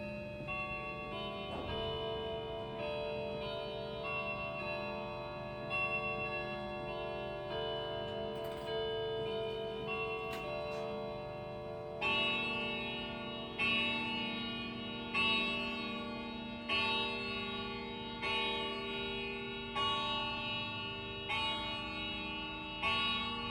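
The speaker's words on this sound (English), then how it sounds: "Then we'll pop back to the Westminster chime for the hour. It's going to give us the full 4 bars and then 9 strikes." A Hermle clock movement plays the full four-bar Westminster chime, then strikes nine hours, each bell tone ringing out in steady succession over a constant ticking, close and clear with no voices.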